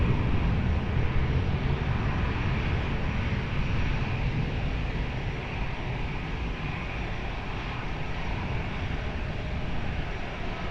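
A fixed-wing airliner on approach to runway 20 at Lisbon Airport gives a steady, continuous broadband engine roar that holds at an even level throughout, with no voices.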